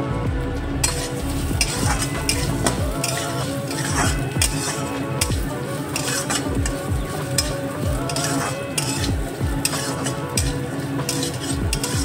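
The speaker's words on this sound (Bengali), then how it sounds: "এবার চালটাকে ভেজে নেব।" Gobindobhog rice grains dry-roasted and stirred around a hot pan, with a steady dry rattle and repeated clinks of a spatula against metal, loud and continuous.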